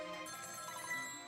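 A telephone rings in the video game Ghost Trick, a brief electronic ringing tone heard alone at a steady, moderate level.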